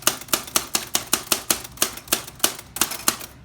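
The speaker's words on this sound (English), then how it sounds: "This is a really old typewriter." An old mechanical typewriter being typed on: a steady run of about a dozen sharp key strikes, evenly spaced and close, each a crisp clack with a short decay, with no voices.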